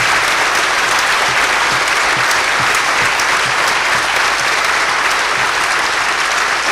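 Sustained audience applause fills a conference hall at a law and competitiveness forum, dense and steady from start to finish with no pauses.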